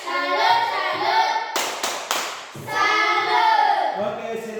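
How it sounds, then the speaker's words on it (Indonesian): Schoolchildren in a Grade 6 class doing a rhythmic clapping salute, sharp group claps in short bursts between their chanted voices, close and lively. "Tepuk salut."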